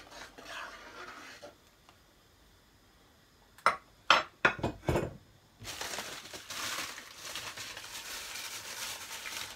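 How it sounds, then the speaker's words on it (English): Curried chicken being stirred in a cooking pot, with a cluster of sharp scraping and clanking hits from a utensil against the pot midway, then a steady broad hiss of cooking that continues to the end; no talking. "Give it a stir."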